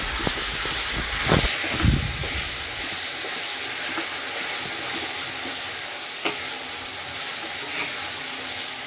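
Masala sizzles in a pan for paneer lababdar, a constant frying hiss with scattered scrapes and knocks of a spoon stirring, heavier early on and sparser later.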